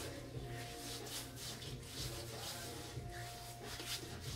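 Shave lotion mixed with water being rubbed by hand over a wet scalp before a straight-razor head shave, a steady soft close-up friction hiss that continues without pause and with no talking.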